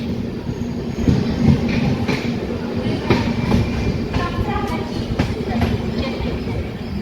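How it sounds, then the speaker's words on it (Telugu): Charminar Superfast Express pulling out of Sullurupeta railway station, with rumbling wheels, rhythmic clacks and faint squeals heard from inside the train under background chatter. "మన ట్రైన్ అయితే బయలుదేరుతుంది సులూరుపేట రైల్వే స్టేషన్ నుండి"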